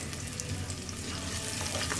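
Green chillies sizzle and fry in a hot pan with a dense, steady crackle, close and continuous, and no voices.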